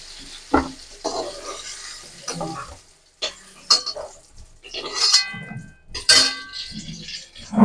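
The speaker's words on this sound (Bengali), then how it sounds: "আর পটলগুলোকে আমি কড়াই থেকে নামিয়ে নেব।" Fried pointed gourd pieces are lifted out of a wok with a spatula, giving repeated scraping clinks of metal on the pan over a soft sizzle of hot oil, close and uneven in rhythm.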